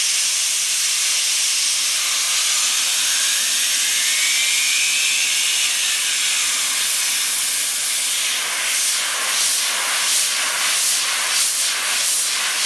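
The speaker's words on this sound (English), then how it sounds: "it might make a airplane type noise when it gets fast enough" A steady, loud whirring hiss of a golf ball spinning fast, rising in pitch and then pulsing rhythmically like a distant propeller, with no voices.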